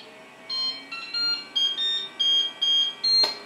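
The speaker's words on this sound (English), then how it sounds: "It's going to play a little buzzer tone, which is kind of cool." A FlashForge Finder 3D printer's startup buzzer melody: a series of bright, high-pitched beeps in a rising rhythmic pattern, close and clear, ending with a click.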